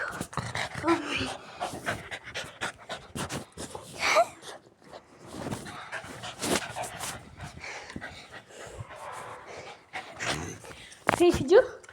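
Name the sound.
dog panting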